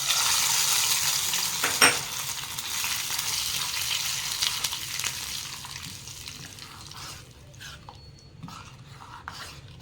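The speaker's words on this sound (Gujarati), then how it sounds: "વઘાર અંદર રેડી દઈશું આપણે." Hot sesame-seed and cumin tempering is poured into farali dhokla batter, giving a loud hissing sizzle with a sharp clink near the start, then fading gradually to a quieter crackle.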